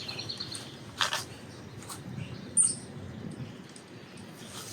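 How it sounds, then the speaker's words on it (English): Birds sing and chirp outdoors around a leafy spot, with brief high calls and a couple of louder bursts over a soft continuous background of ambient rustle. "The birds."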